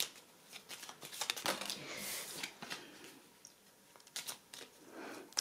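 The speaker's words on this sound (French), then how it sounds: "On bat les cartes." A deck of tarot cards being shuffled by hand during a card reading, with repeated riffling bursts and soft slaps, fairly quiet and close, with no talk.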